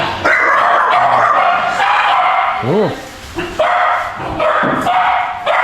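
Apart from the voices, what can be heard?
dogs barking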